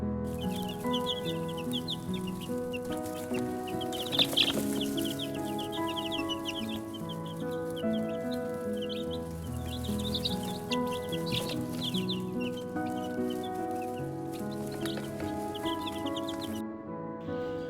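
Hens clucking steadily in a backyard flock, several birds chattering and calling together at moderate distance, continuous over a low background hum.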